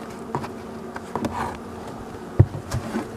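A steady low hum of honeybees buzzing close by on hive frames, with a soft knock or bump partway through.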